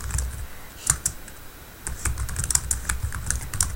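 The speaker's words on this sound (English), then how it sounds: "After that, what you do is start typing." Fingers type on a computer keyboard at close range, an uneven run of crisp key clicks and taps with short pauses, alone with no talk.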